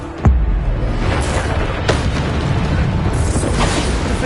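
Bombarda spell explosions from a Hogwarts Legacy video game go off as sharp booms, one strong blast near the start followed by a couple of softer bursts, over a dense rumbling battle backdrop.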